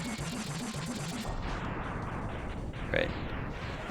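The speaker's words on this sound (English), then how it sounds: "Same explosion effects they're using all over the place." Crashing, crackling explosion effects from the SNES-era game Mega Man X burst repeatedly over chiptune music, dense and loud, with a brighter blast near the three-second mark.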